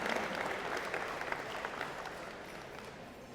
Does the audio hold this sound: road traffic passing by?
no